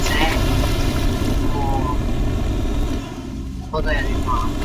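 A boat's jet engine in the Teardown video game makes a steady, loud roaring rush with a brief dip in level near the end.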